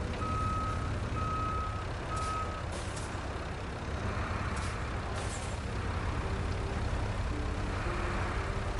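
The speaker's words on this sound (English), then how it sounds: "This truck's getting lifted up in the air." Heavy truck being hauled out of the mud by a crane in Roadcraft on PS5: a steady, droning engine rumble with intermittent reversing beeps throughout, no voices.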